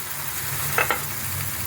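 Chilli and cumin powder masala stir-fried in a pan for stingray curry gives a steady near sizzle, with a couple of sharp spatula scrapes in the middle.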